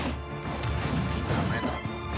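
A forward smash attack landing in Super Smash Bros during a tournament match, a dense crashing impact burst over the busy game audio, loud and with no voices.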